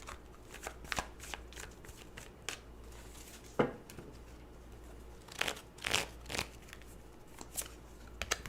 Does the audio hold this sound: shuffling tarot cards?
yes